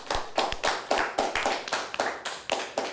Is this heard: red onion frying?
no